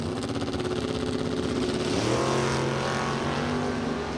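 A 1980 Malibu and a 1984 Camaro launch off the line at a drag strip, their engines roaring loud and rising in pitch as they pull away, with a shift in tone midway and no talk.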